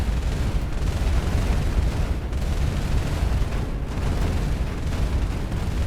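Artillery in the Mindustry video game fires as a dense, continuous rumble of booms and blasts, loud and steady throughout with no pauses.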